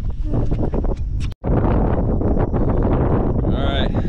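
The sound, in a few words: wind blowing on a boat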